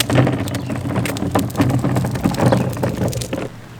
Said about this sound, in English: It's a little unfortunate that it's raining so much